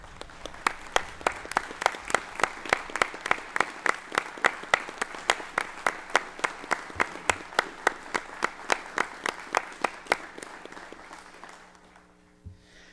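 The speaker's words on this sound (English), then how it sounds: "join me too, in a round of applause for Pastor Miles on this well-deserved honor." A small audience at a school district board of trustees meeting gives an honoree a round of applause: sparse, evenly spaced claps from a modest group in a quiet room, tapering off and stopping near the end.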